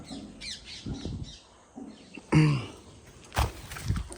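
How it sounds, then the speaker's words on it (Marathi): A peacock's loud, harsh squawking call rings out once, followed by a second sharp cry, over quiet outdoor background noise. "More guys, more. This is more."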